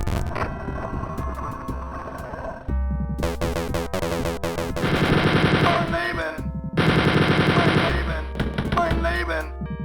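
Chaingun in a Doom map firing in long rapid bursts, loud and close, with short pauses between volleys and a shooter's voice talking briefly over the gunfire.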